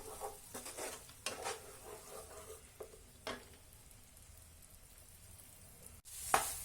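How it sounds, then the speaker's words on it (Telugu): Chili paste frying in oil and butter in a pan for street-style tawa pulao: a steady, close sizzle with occasional stirring scrapes and clinks, ending in a sudden louder hiss. "పేస్ట్ వేసుకొని కొంచెం మిక్స్ చేసుకున్నాం. ఇది కొంచెం ఫ్రై అవనిద్దాము."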